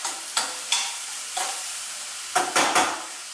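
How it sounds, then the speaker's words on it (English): Brussels sprouts sauté in a hot pan, with a soft sizzle under a handful of sharp scraping stir strokes, roughly six distinct bursts at uneven intervals, close and fairly loud. "So that's just gonna saute up."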